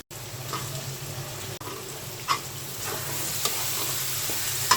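Vegetables and dried Loitta fish are stir-fried in a pan, producing a steady sizzle under repeated scraping and stirring strokes with a few sharper knocks, close and fairly loud.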